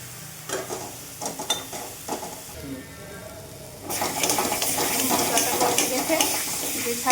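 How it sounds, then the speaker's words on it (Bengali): Spice paste for a homemade papda fish curry being stirred and fried in a pan: scraping strokes of a spoon at first, then a loud, steady sizzle close up. "মশলাটা নাড়া দিয়ে দিলাম, আর একটু কষতে"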